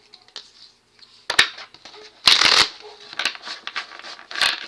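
Tarot cards are shuffled by hand close up, giving quick papery riffles and flicks in uneven bursts, the loudest a dense rustle in the middle, between quiet pauses.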